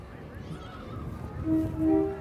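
Horses in a parade at a Tater Day event whinny faintly over a low crowd murmur, with a short tonal neigh near the end.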